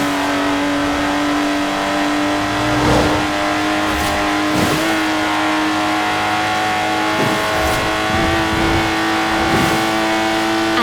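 A Lotus Exige in Forza Horizon 4 revs hard and steadily, its loud engine drone rising and falling through several sharp gear shifts with brief tire noise, close and continuous with no talking.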